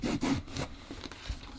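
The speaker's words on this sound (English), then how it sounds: "I'm now just going along with my file, with my rasp, just to try and get everything sort of leveled up a bit" A hand rasp files the edge of a leather shoe sole in quick, close scraping strokes, a gritty rubbing rasp repeating several times in brief succession.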